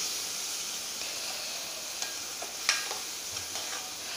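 An onion theeyal curry simmers in a pan, giving a soft, steady hiss with faint bubbling and a few small clinks, quiet and close with no talking.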